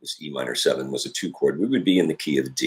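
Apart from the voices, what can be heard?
No distinct noise like a dog, phone or traffic.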